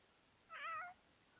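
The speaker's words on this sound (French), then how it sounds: "Ah, les petits chatons." Kittens give a single short, bright meow at middle distance, clear and alone against a quiet, faintly hissing background.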